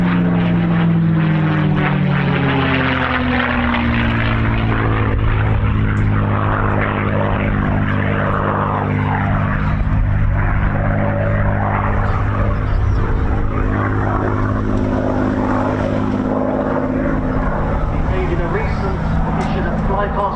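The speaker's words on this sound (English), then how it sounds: "In at 2, the Spitfires." Spitfire fighters fly at the RAF Cosford Air Show with a loud, continuous propeller-engine roar. The drone sweeps in pitch as the planes pass close by, and a commentator's voice carries under the noise.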